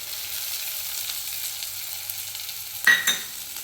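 Chopped tomato fries in hot oil for a beetroot palya, a faint, steady sizzle with a brief louder crackle of stirring near the end.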